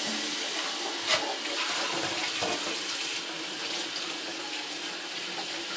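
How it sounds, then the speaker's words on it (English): Hot water from a tap pours steadily into a cup or similar container, a continuous close hissing rush of water with no talking. "All you do is fill it up with hot water."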